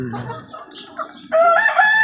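A rooster crows loudly at close range, starting with a few short clucks and murmurs before a strong, sustained call fills the second half.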